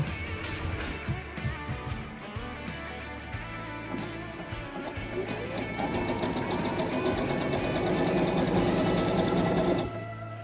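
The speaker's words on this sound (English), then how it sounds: "All right, let's get sewing." A sewing machine stitches camper cushion covers made from bed sheets, its rapid mechanical chatter running in bursts that build into a sustained steady whir before stopping.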